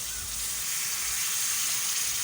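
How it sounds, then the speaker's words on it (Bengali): Water hits a hot pan of frying katla fish curry spices and sets off a steady, close hissing sizzle that holds evenly for a couple of seconds, with no voices. "তারপর আমি এতে জল দিয়ে দেব।"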